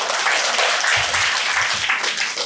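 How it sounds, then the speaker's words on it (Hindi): An audience at a Buddhist vihara in Ulhasnagar, Mumbai, applauds during a question-and-answer session. The clapping is full and steady throughout, with a few low thumps underneath. "जोरदार तालियां इनके लिए।"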